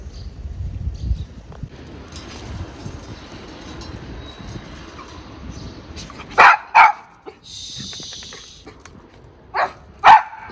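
A dog barks in short bursts near a house, two quick sharp barks followed a few seconds later by two more, over low ambient noise and faint rustling.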